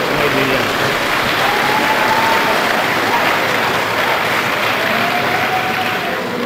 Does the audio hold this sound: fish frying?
no